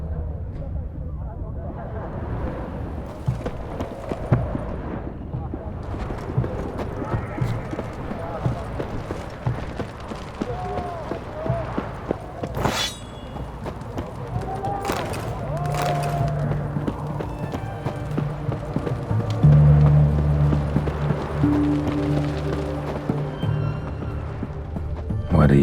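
Horse hooves clip-clopping in The Witcher 3, a steady rhythmic trot under ongoing character dialogue, with ambient game sounds and music swelling later.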